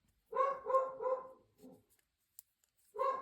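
A dog barks three times in quick succession, then gives a softer bark and one more after a pause, fairly close.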